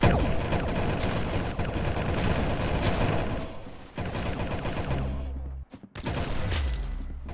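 Rapid gunfire rattles through a Roblox Arsenal match, dense bursts of shots and crackling impacts layered over game noise, loud and close, with a brief near-silent gap before the firing resumes.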